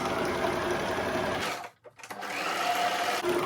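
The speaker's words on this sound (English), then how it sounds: "Make sure you sew it down back and forth 2 to 3 times or 3 to 4 times" Sewing machine stitching down an elastic band on a satin-lined turban, a steady close mechanical whir that stops briefly in the middle as the fabric is reversed, then runs again.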